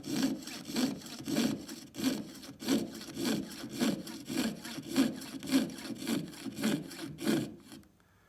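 A hand saw cuts through stiff cellulose acetate in about a dozen steady back-and-forth strokes, pushed on the blade, close and alone, rasping rhythmically before stopping abruptly.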